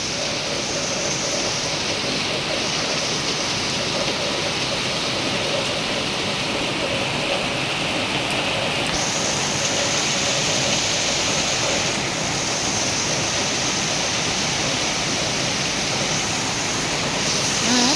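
Steady, dense rain pours down in a constant hiss that never lets up, filling the space evenly with no voices.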